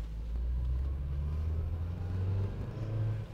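A 1991 Toyota pickup truck drives along with a steady low engine rumble that gently rises and falls as it pulls through the gears, heard alone at moderate distance.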